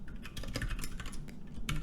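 Fingers tap out quick, uneven keystrokes on a computer keyboard, a soft clicking patter that is faint and close with no voices.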